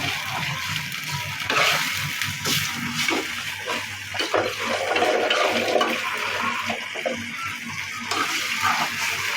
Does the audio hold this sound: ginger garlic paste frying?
yes